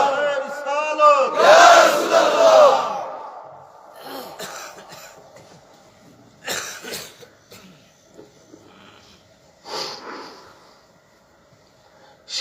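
A crowd at a Bengali Islamic sermon shouts a loud, brief collective Allahu Akbar in response to a takbir call, followed by quieter scattered coughs and murmurs.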